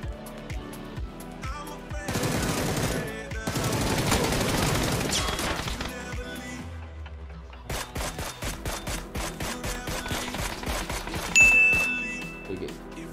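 Gunfire in the video game PUBG: two long bursts of rapid automatic shots, a short pause, then a quicker run of sharp repeated shots ending in a loud final blast, with a brief metallic ding near the end.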